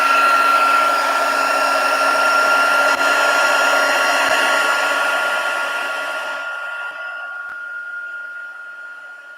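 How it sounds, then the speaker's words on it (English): Craft heat tool blasts hot air onto embossing powder with a steady, loud whir, close up, then switches off and winds down over the last few seconds. "And then we'll give this a blast with the heat tool."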